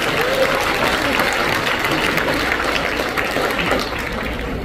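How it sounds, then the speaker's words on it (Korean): A church congregation at a Korean world missions conference applauds steadily and loudly, a dense wash of clapping that holds for several seconds before easing slightly near the end, with faint voices mixed in. "우리 한번 박수 쳐드리시죠."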